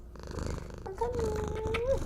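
Cat purring close by, a soft rumbling drone that swells slightly louder partway through, with a faint higher whine or mew laid over the purr near the end.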